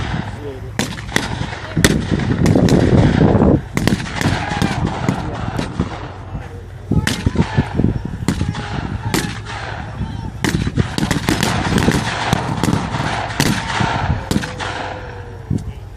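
A Marine platoon lays down cover fire at a flamethrower demonstration during a 2017 wartime museum open house. Sharp reports crack out in rapid, irregular bursts and single shots, some loud and close, with a heavier rolling volley early on.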